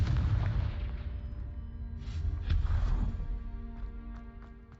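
A Confringo blast spell explodes in the Hogwarts Legacy video game, a loud booming burst over a continuous rumbling game soundscape with a few smaller bursts.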